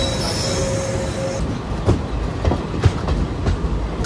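A passenger train pulls out of Katpadi Junction, its wheels squealing in a thin high whine over low rumble, with occasional sharp clanks and joint clicks close by.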